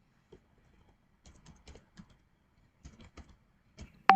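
Code being typed on a computer keyboard: scattered bursts of quick key clicks separated by short pauses, close and moderately quiet, ending in a sharper louder tap.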